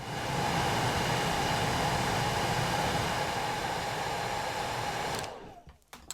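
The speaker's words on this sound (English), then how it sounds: "just a couple seconds under a hair dryer" A hair dryer blows with a loud, steady whooshing hiss for several seconds, then switches off and winds down into near silence with a few faint clicks.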